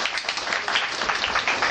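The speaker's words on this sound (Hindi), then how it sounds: "सिंह के लिए तालियां हैं।" Steady, dense clapping from an audience at a society gathering as a member is honored, continuous and fairly loud throughout the short stretch.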